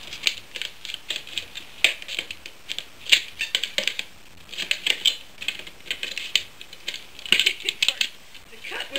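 Scissors snip and crunch around a plastic bottle, a quick irregular series of sharp close clicks and cuts continuing for several seconds with short pauses.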